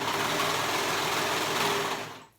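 Serger sewing machine running steadily as it stitches fabric for a romper, a continuous close, even mechanical whir that holds at constant loudness before stopping abruptly near the end.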